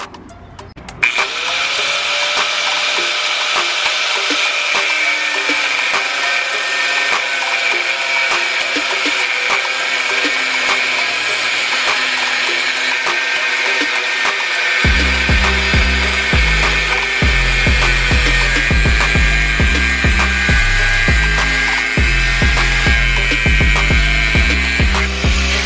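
A power tool whines steadily and loudly while cutting the cowl of a BMW 335i, with a choppy, pulsing low grinding joining about halfway through as the blade bites into the part.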